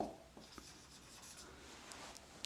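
Marker or chalk writing on a board, a faint soft scratching and rubbing with a few light taps, brief and quiet, no talking.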